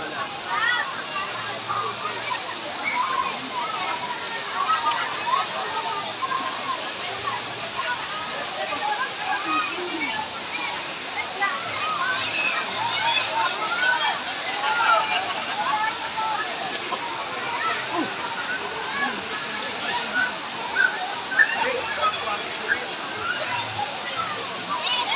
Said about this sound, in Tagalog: Ito lang yung kabuuhan ng falls.